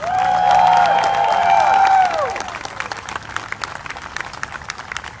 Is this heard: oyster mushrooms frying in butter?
no